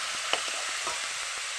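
Mixed vegetables fry in a pan of oil with panch phoron and bay leaf, a close, continuous bright sizzle with faint crackles and a small pop, with no talk.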